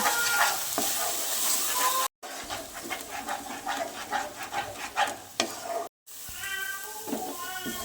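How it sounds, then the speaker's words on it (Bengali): Coriander and cumin powder masala with salt and turmeric being stir-fried in a pan for a papaya kofta curry, with repeated scraping strokes and a soft sizzle, near and moderately quiet, briefly broken by two short gaps. "ধনে গুঁড়ো, জিরে গুঁড়ো, মশলাটা ভালো করে কষিয়ে নেব"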